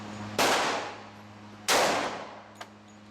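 Two loud, sharp firearm reports ring out about a second apart, each with a long ringing metallic decay, followed by a faint distant ping of a bullet striking a steel target.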